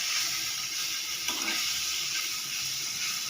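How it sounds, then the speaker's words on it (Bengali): Fresh paneer lightly frying in a pan, a soft, steady sizzle at close range with one slightly louder burst midway and no voices. "হালকা ফ্রাই করে নিচ্ছি"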